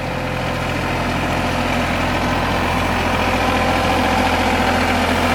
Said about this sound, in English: back the tractor into the barn